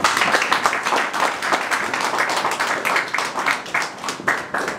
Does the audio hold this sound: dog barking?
no